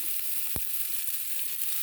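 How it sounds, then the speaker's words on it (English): Leeks and garlic fry in a pan with a steady, soft hiss of sizzling oil and a single brief low knock partway through. "in this pan, we're going to be cooking our leeks"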